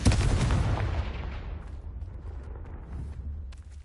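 The Confringo explosion spell in Hogwarts Legacy bursts with a loud, booming blast at the start, then rumbles and fades away over several seconds.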